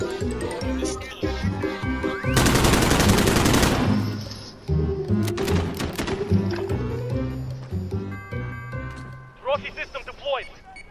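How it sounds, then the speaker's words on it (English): Heavy gunfire in Modern Warfare custom games, a dense burst of rapid shots lasting over a second, with scattered single reports and game effects before and after, while players talk throughout. "I don't even know where I'm being shot from."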